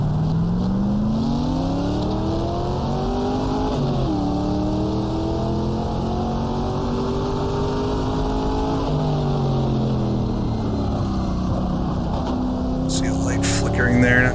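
Racing engines of 1966 sports cars howl side by side with a Porsche 904 through a hairpin at Sebring in the GTR2 racing game, pitch dropping under braking and climbing again, steady and close throughout.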